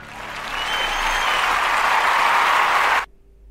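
Sustained applause from an audience, steady and dense for about three seconds, then cutting off abruptly into near silence.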